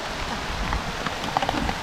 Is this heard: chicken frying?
no